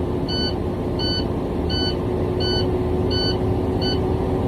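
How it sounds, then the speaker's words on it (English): A high electronic truck low-air-pressure alarm beeps six times in a regular rhythm over a steady engine idle and a constant hum, during an in-cab brake test. "both lights went out, my alarm went off"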